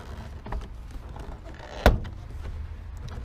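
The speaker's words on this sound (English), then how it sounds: "And so now I'm gonna pry the door." A plastic door panel on a 2009 Honda Accord LX is pried loose, giving one sharp, close snap of a clip popping free against quiet handling sounds.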